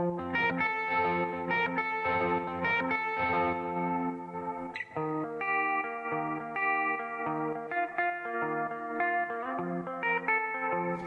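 Electric guitar chords ringing out with heavy reverb and chorus-like shimmer, sustained and washy, playing alone without any voices.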